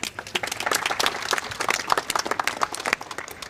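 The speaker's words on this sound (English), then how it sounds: "But a round of applause, please." An audience at a live panel discussion on discrimination and neglect in water, sanitation and hygiene bursts into steady applause, dense close-up clapping throughout the few seconds without any talk.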